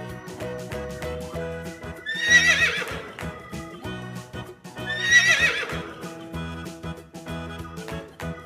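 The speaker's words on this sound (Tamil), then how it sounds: "horse." A horse neighs loudly twice, long whinnies about three seconds apart, set against a steady musical backing with rhythmic clip-clop-like beats.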